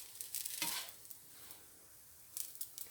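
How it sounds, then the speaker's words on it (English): Banana oat pancakes sizzle in a frying pan with caramelized, crispy browning edges, a soft, faint hiss punctuated by brief bursts of spattering and stirring scrapes. "I'm going to finish frying up my pancakes"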